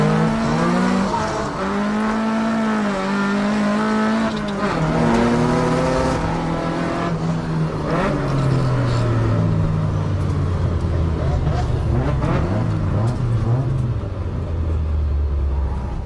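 Cars drifting on a touge mountain road as a Nissan R32 spins out, with loud revving engines rising and falling in pitch and squealing tires, close and continuous, while a voice talks over it.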